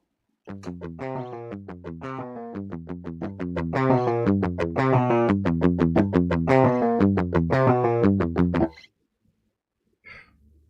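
Distorted electric guitar with its active circuit switched on for extra attack, playing a steady run of punchy, bright strummed chords, loud and driving, stopping abruptly near the end with a brief noise after.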